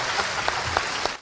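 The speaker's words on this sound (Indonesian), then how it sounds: "tepuk tangan untuk Pak Gita" A brief burst of dense audience applause at a religious talk, steady clapping for the speaker with no voices over it.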